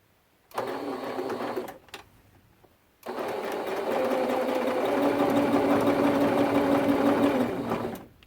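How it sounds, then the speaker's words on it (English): A sewing machine runs a quarter-inch seam on a quilt binding, a short burst followed by a longer, steady whirring stitch run, close and clear with no talking. "I'm going to sew a quarter seam straight from the top to the bottom."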